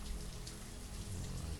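Steady rain falls in the colony-building video game Banished, a dense, even hiss of drops on surfaces with no talk over it.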